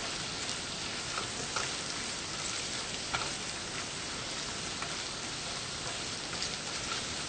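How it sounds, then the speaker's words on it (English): Mushrooms and shallots sauteing over low heat in a pan give a steady, dense sizzle that holds evenly throughout, close and fairly soft, with faint crackles and no talking. "you're going to turn it to low and let it saute for about 3 minutes"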